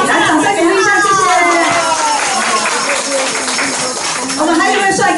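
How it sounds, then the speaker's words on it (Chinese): A volunteer group's gathering audience claps to encourage a volunteer, a loud, close burst of applause blended with crowd murmur and a voice talking over it throughout. "来掌声鼓励一下"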